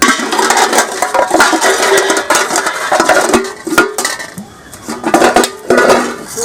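Metal utensils and pots clinking and clattering while being washed by hand, a busy run of close, bright knocks and scrapes throughout.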